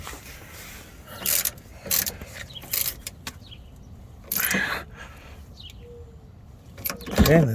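Ratchet tightening the lower shock absorber bolt on a 1994 Dodge Ram pickup: several short bursts of rapid clicking separated by pauses, close and fairly loud, with a brief voice near the end.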